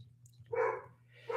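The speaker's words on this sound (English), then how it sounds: "He's barking." A dog named Albie barks indoors, two short, moderately faint barks a moment apart over a steady low hum.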